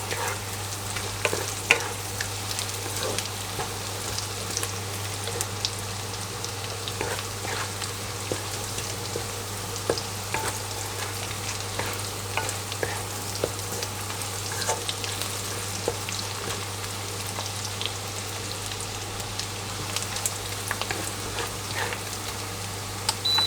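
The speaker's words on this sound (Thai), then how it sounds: "เราก็ผัดจนกระเทียมมัน เหลืองนะครับ หมูมันก็จะสุกลงไปอีก" Pork belly and garlic stir-frying in a pan, giving a steady, close sizzle with scattered pops and the scrape of stirring, continuous and even throughout with no talk.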